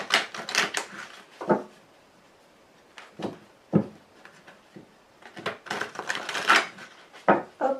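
A deck of cards being cut and handled produces a series of crisp, close riffling and tapping clicks in uneven clusters, with no talk over them.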